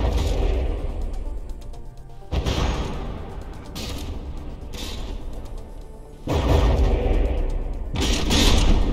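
Repeated heavy booms and crashing impacts as artillery shells strike a battleship's front turret in From the Depths, arriving in loud bursts separated by quieter stretches of rumbling combat noise.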